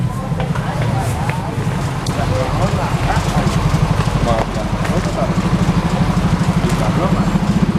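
A motorcycle engine running steadily, close by, on a cement delivery trip to Lembang, with a continuous rumbling drone throughout and a faint clatter of road noise.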